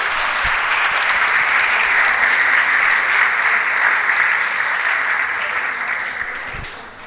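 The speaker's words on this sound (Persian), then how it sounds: "عزیزانی که این تصاویر رو درست کردن تشویق کنید." An audience at a talk introducing Blender software claps loudly and steadily for several seconds, a dense unbroken applause that fades slightly toward the end, with no speech over it.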